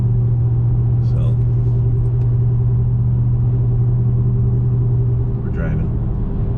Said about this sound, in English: we're driving.